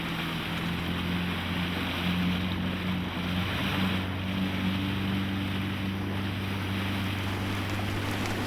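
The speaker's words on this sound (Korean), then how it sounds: "바다 한가운데로 나가자 풍랑과 안개가 더욱 심해지기 시작했다" Rough open sea in heavy swell and fog batters a small boat in an icy whaling region: a constant roar of wind and surging waves over the low, steady hum of the boat's engine, with no voices.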